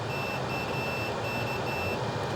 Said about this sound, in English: So with my multimeter in continuity mode, when I have a short, we get a beep.